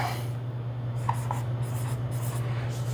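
A pen scratches on paper while writing out a markup pricing calculation, a close, continuous faint scratching over a steady low hum, with no talking.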